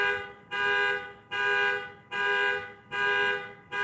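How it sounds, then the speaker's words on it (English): An alarm goes off indoors, sounding as a steady string of identical buzzing tone bursts, each about half a second long with short gaps between. The pattern repeats five times, fairly loud, with no voices over it. "Someone's alarm has decided to go off."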